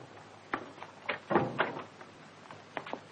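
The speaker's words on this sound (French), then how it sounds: "Ferme la porte." A door swings shut indoors in a French film scene, a few soft knocks and a muffled thud of wood closing, fairly quiet with no talking.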